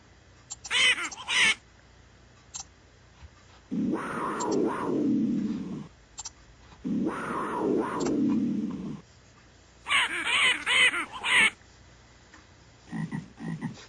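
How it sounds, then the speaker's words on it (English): Bird calls in The Amazon Trail video game, a rainforest setting: loud, harsh croaking cries repeating in separate bursts with short silences between them. "Holy crap, that was a big bird."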